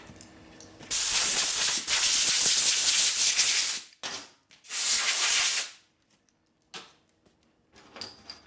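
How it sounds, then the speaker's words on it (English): Compressed air from a shop airline blasting grit off machine parts in a bench of loud hissing bursts: a long sustained blast, a shorter second burst, then a few brief puffs, close and alone. "I'll blow the grit off."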